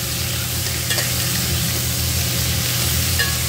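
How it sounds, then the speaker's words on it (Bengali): Salted ridge gourd, pointed gourd and potato pieces are stirred and turned over in a frying pan, giving a steady, continuous sizzle with soft scraping throughout and no talking. "ভালো করে কিন্তু আমি এটা উপর নিচ করে নাড়াচাড়া করে নেব"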